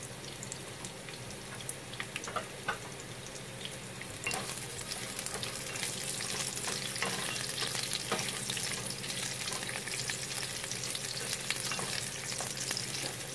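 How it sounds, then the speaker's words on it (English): Onions browning in palm oil in a pan give a soft, continuous hiss and crackle, with a few faint scrapes early on, a low steady sizzle that stays even throughout. "I'm going to go ahead and start browning our onions"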